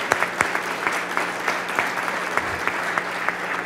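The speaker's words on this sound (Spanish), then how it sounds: "Carlos Cueva, que se merece un aplauso, es un visionario." Audience applause for a businessman at a real-estate event, a moderate, even clapping with a few sharper close claps standing out, continuing throughout without speech.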